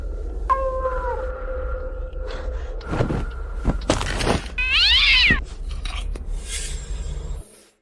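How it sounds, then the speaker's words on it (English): A cat meows loudly and close, a drawn-out wavering cry standing out among scattered scraping and rubbing noises. "Can't they hear the cat meowing?"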